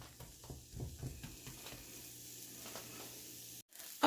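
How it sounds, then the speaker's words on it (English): Onions frying in a pan for a coconut curry chicken dish give a steady, soft sizzle with light crackles, close and fairly quiet, ending in a brief pause and a louder clatter. "Okay, so my onions have been going for about 5 minutes."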